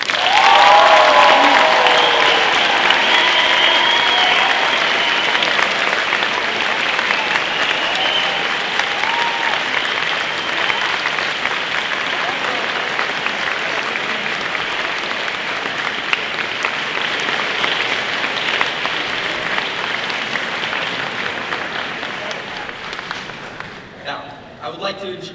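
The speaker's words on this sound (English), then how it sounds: "Please join me in giving a warm round of applause for Mr." An audience at a youth event in a gym gives a warm round of applause, loud and dense at first, then holding steady for over twenty seconds before fading out.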